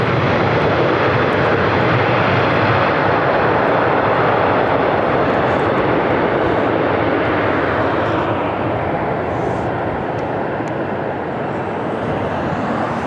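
A Southwest Airlines Boeing 737-700 arriving from San Francisco lands at LAX, its jet engines roaring loud and close in a broad, steady rumble that eases slightly toward the end, with no voices over it.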